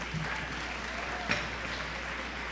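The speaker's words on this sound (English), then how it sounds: "Let's give another round of applause to Dr. Hinojosa" Audience applause at a community celebration in South Oak Cliff, a steady wash of clapping at moderate distance with a brief louder burst partway through, no talking over it.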